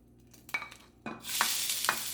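Bok choy and ginger hit a hot pan with a sharp sizzle, then a loud, steady frying hiss as stirring clatters through it in a few distinct strokes, close up with no talking.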